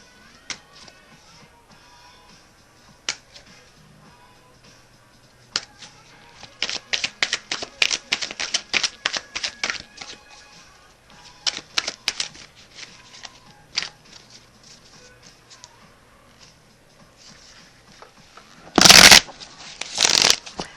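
A Morgan Greer tarot deck being shuffled by hand, with bursts of riffling card clicks between quieter pauses and a loud, close flurry near the end.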